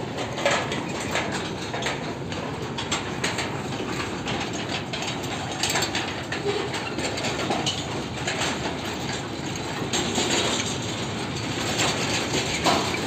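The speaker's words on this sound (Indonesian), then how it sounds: "lokomotifnya ada di tengah-tengah rangkaian gerbong tebu" A sugarcane train with its locomotive in the middle of the wagons rolls past, a steady clattering, rattling mechanical din of wheels and couplings close by, with faint bird chirps and no talking.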